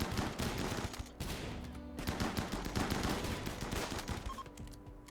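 Colonists trading gunfire in Rimworld, a continuous chaotic spray of overlapping shots and bursts, loud and close throughout.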